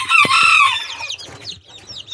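Young chicks in a brooder make a loud, close burst of high, squeaky clucking and cheeping, then quieter scattered peeps and soft rustling, with no talking.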